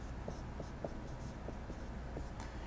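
An equation is written out by hand during an electrical engineering lecture, short soft scratching strokes in an irregular rhythm, quiet and close, with no speech.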